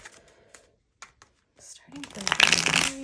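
Tarot cards are riffled and shuffled by hand, a few faint taps and slides followed by a louder burst of rapid fluttering card flicks near the end.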